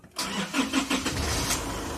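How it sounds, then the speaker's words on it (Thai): An Isuzu D-Max 2500 pickup truck engine cranks with a few rhythmic turns, then catches and settles into a low, steady idle. "ก็สตาร์ตติดนะครับ"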